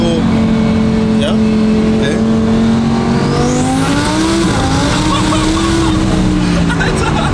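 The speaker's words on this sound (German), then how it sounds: "Die Räder haben auch voll durchgedreht" Audi R8 Turbo accelerating hard with its wheels spinning, a loud, close engine roar that climbs in pitch with tire squeal, while people talk over it.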